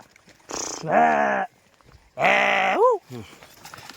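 Two loud, wavering bleats from goats close by, separated by a short pause, followed by a faint shorter call.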